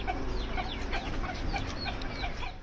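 Hens cluck over and over in quick, overlapping bursts, fairly close and steady, with no voices.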